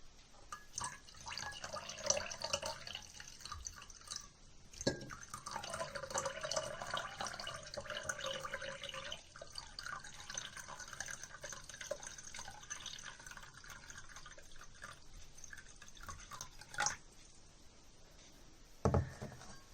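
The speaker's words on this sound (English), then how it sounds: "I'm going to try pouring some water" Water is poured into a container for a floating-egg home science experiment, giving a soft trickling and dripping flow with occasional sharp clicks of the vessel.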